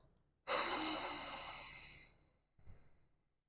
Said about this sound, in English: you make that ocean-like sound, that's a great way to maintain attention on the breath, especially on the exhale.